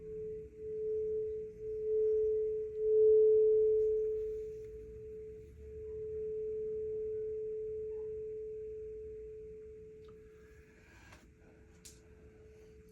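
Steady pure meditation tone for the third eye chakra, a single sustained sine-like pitch swelling and fading gently over several seconds, with faint clicks near the end and no talk.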